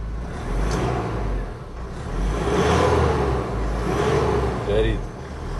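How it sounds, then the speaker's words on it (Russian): An Isuzu 4JJ1T diesel engine with 138,000 km, from a vehicle damaged by a fallen log, runs with a steady loud rumble and a slight rise in revs, while people talk over it throughout. "Заводим 4GG1."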